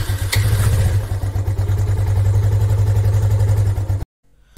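A motorcycle is cold-started and settles into a loud, close idle with a steady low throbbing rumble and light mechanical clatter, cutting off abruptly near the end, with no talking.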